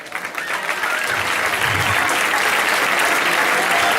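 Festival audience at the Mareante Mayor celebration in Lastres claps loudly for the organizing association, the applause swelling quickly and staying thick and sustained, with a few voices mixed in.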